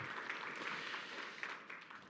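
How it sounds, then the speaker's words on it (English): Audience applause at a humanities and global studies scholarship award ceremony, a steady, moderately quiet wash of many hands clapping that holds for a couple of seconds and thins slightly toward the end. "So a round of applause for everyone who's qualifies for this category."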